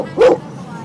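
A dog lets out a single short, close bark, loud and sudden against a quiet indoor background with low hum.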